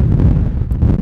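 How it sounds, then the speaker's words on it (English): Strong, cold wind in the Lithgow mountains buffets the microphone with a loud, continuous low rumble and gusty roar, no voices. "It's that windy and cold, it's insane."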